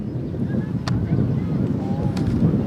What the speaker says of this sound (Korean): 지금 바람이 많이 붑니다. 네. 바람 소리 들리십니까?